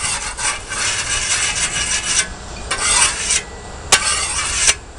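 Ditch axe bevel being sharpened with a stone in circular strokes, a close, rasping scrape repeating in rough rhythmic passes with a few sharper scratches near the end, alone without talk.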